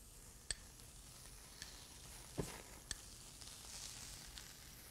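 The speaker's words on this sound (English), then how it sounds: "we're going to start just grilling our fish whole" A whole fish sizzling on the grill, a faint steady hiss with a few sharp crackles and pops scattered through it, quiet and close, no talking.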